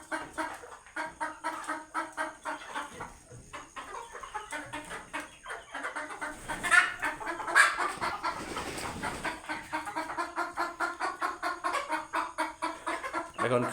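Chickens perched on a raised platform in a farm shed cluck steadily and rhythmically in the early morning, a dense close chorus of repeated clucks with a few louder squawks midway.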